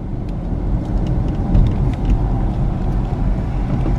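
A car drives through a small Arizona town, giving a steady low engine and road rumble from inside the vehicle, close and continuous with slight swells.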